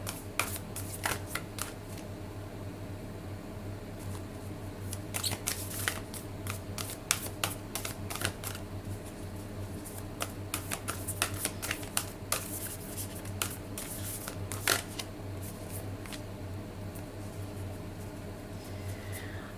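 Spirit Animal Oracle cards shuffled during a tarot reading, giving soft papery riffles and flicks that come in scattered bursts over a steady low hum, with no talking.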